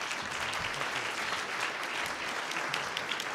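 An audience claps warmly for a speaker stepping up to the lectern at an academic awards ceremony, steady and sustained applause from a moderately sized room with no voices over it.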